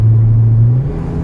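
A stock car engine revs after tuning with a fuel control box, giving a loud, close, steady low drone that eases slightly in its final moments.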